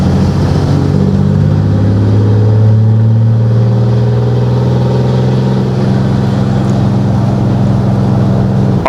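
Diesel engine of a 2021 Ram 2500 Cummins truck pulling hard after a downshift to fourth, a loud close droning roar that climbs steadily in pitch for several seconds without any talk.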